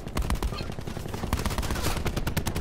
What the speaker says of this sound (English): You start shooting at one and then the other one shoots you.